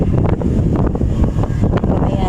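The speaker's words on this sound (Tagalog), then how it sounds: "Ang lakas ng hangin." Strong wind at Pier 3 buffets the microphone with a loud, continuous low roar and gusty rumble. Faint activity from the waterfront crowd sits underneath.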